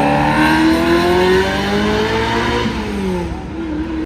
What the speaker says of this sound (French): Lucas, et là on a une petite Del Sol qui arrive, et du coup il va la guider